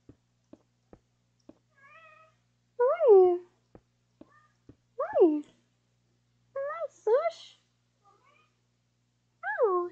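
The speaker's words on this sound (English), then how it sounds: "Sushi Cat's here" A cat gives several distinct meows in a quiet room, with short gaps between calls and a few faint clicks between them, close and clear.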